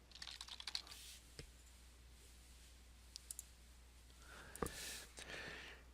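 Keyboard typing of a name into a software form on a computer: a quick burst of close, light key clicks at the start, a few isolated taps midway, then another cluster near the end, with quiet room tone between.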